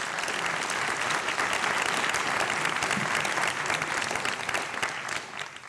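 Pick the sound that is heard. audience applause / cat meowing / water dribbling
audience applause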